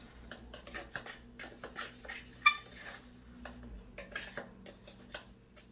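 A utensil stirs flour, salt and cream of tartar in a metal pot for homemade playdough, giving a run of quiet, irregular scrapes and clinks, one sharper knock near the middle, close and alone against a faint low hum.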